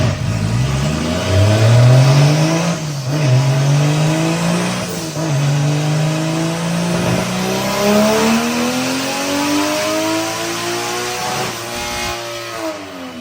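A car with a 1.5JZ engine revs hard on a dyno, its loud tone climbing through long pulls with short lifts between, the pitch rising steadily each run.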